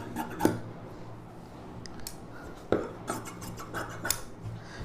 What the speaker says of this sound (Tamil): இந்த ஷேப் அப்படியே கட் பண்ணிக்கலாம்.